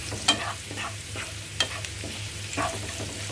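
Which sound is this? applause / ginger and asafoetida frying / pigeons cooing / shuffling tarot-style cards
ginger and asafoetida frying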